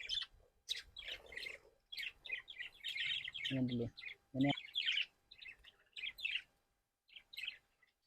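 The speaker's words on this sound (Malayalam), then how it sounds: "നമ്മുടെ ബാക്കിൽ കാണുന്ന കിളിക്കൂട് ലവ് ബേർഡ്സിന്റെ കൂടാട്ടോ" Lovebirds chirp and tweet in their cage, a busy run of high, bright calls through most of the stretch, fairly close, with a voice speaking briefly among them.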